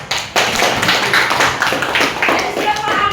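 A classroom of students claps together in a lively burst of rapid, slightly uneven applause, fairly close and loud, with voices mixed in.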